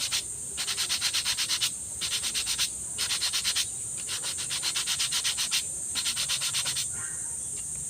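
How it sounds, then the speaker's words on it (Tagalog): Sandpaper is rubbed by hand across a disk brake caliper part in quick back-and-forth strokes, coming in rhythmic bursts separated by brief pauses, close and fairly loud, with no talking. "Lihahin lang natin ang kaunti."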